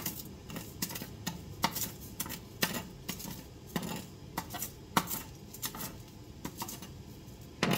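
Erythritol being stirred into apple cider with cinnamon, a spoon clinking irregularly against a cup in soft, scattered taps at a quiet level.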